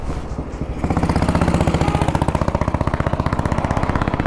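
Royal Enfield motorcycle engine running close by, a steady rapid thumping beat that swells louder after a brief quieter start and holds a strong rhythmic pulse.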